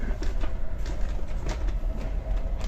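Inside a fast German train, a steady roar of rolling wheels and motors fills the cabin, with faint rhythmic rattles and clicks over a constant low rumble and no one speaking.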